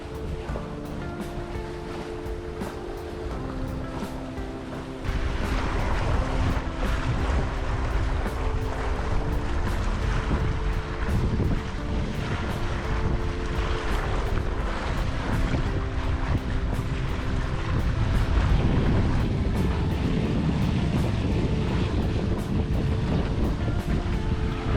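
A sailboat under way at 5.5 knots in about 10 knots of wind, with steady rushing water along the hull and wind noise on the microphone, growing louder and fuller partway through and staying constant, with no talking.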